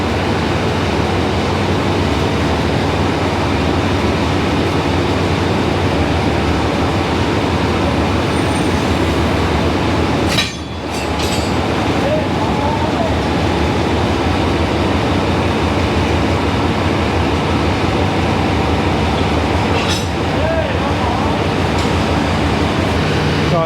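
Locomotive 4503 on a train to Malaysia pulls up, a steady loud rumble with broadband rail noise that holds throughout, broken by a brief dip and a couple of short sharp bursts.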